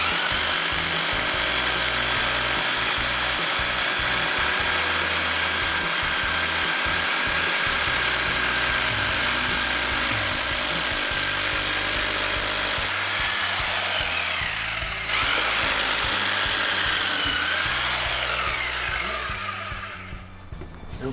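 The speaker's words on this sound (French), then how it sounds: "Vous pouvez percer l'équerre, enfin le trou, et il y a un trou oblong spécifique." A power drill runs continuously, boring a hole through a metal bracket while assembling a flat-roof garden shed; steady, loud whirring with a brief dip near the end.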